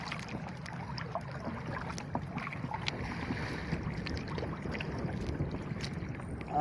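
A small boat moving on open water, with soft lapping, splashes and low wind rumble continuing steadily throughout.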